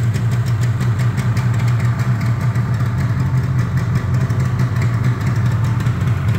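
A Yamaha RD350LC two-stroke motorcycle engine with 13k miles runs steadily close by, giving a continuous buzzing drone with no talk over it.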